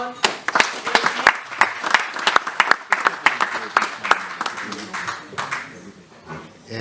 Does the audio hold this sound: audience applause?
yes